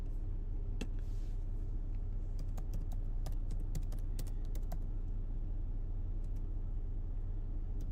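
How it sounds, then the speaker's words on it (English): Fingers tap a computer keyboard in scattered bursts of light clicks over a constant low rumbling hum in the background. "Y'all can tell when I start typing in stuff"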